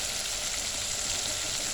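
Chicken pieces frying in a pan of hot oil, a dense, steady crackling sizzle, loud and close, with no voices over it.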